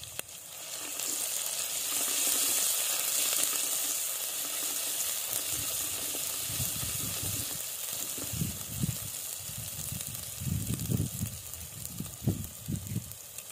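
Curry leaves and crushed garlic go into hot oil on a village wood-fired stove and set off a loud, continuous hiss. Bursts of sputtering and stirring thumps follow.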